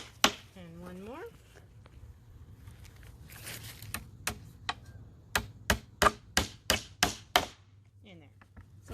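Hammering nails into a recycled wood post: a few scattered knocks, then a rapid run of sharp, loud hammer strikes close by, with a short stretch of talk early on.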